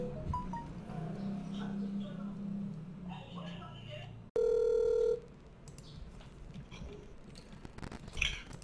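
Phone call placed to an insurance company's claims line: a steady ringback tone sounds for about a second in the middle, with low murmuring and room noise before and scattered clicks after.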